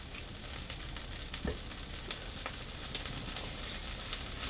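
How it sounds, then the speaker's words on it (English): Potatoes frying in oil in a pan for a cotija cheese veggie soup give a steady, even sizzle with faint crackles throughout, moderately quiet and without talk. "put a little bit more oil for to start grilling the potatoes"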